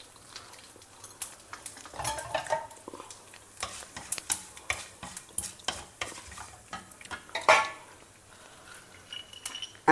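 Urad dal, mustard seeds, jeera and two dry red chillies crackle and sizzle in hot oil in a pan, with repeated stirring scrapes and metallic clinks of a spoon against the pan throughout.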